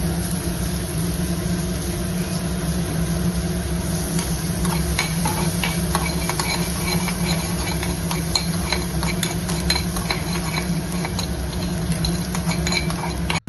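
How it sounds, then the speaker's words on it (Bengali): Chopped garlic and ginger frying in hot butter for a Chinese soup, a continuous close sizzle with scattered crackles and spatters over a low steady hum. "এর মধ্যে আমি রসুন কুচিগুলো দেব আর আদা কুচি দেবো।"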